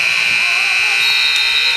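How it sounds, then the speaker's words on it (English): A basketball scorer's-table buzzer at a boys varsity high school game sounds as a loud, steady, harsh electronic tone held for the whole stretch, over gym crowd noise. "The buzzer sounds."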